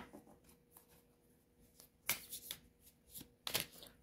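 Tarot cards being shuffled by hand in a quiet room, two sharp riffling bursts with softer card slides and taps between, close and clear with no talking.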